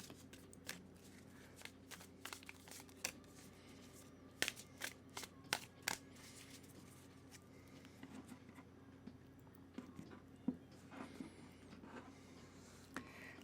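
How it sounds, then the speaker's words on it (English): Tarot cards being shuffled by hand, a long run of soft riffling and tapping bursts with irregular rhythm, close and quiet against a faint steady background hum, no voices. "I'm going to go ahead and give the deck a really good shuffle for you."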